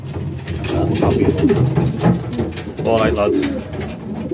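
Pigeons in a racing loft coo and call close by, with someone talking over them throughout.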